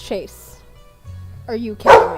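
A pet dog named Chase barks a few short times, close by, mixed in with someone talking over it.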